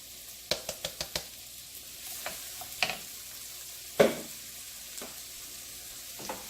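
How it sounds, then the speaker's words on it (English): White mushrooms and about a cup of white onions saute in a pan with a soft, low sizzle, broken by a few sharp utensil taps and scrapes against the pan as they are stirred. "Stir that, let it saute a little bit."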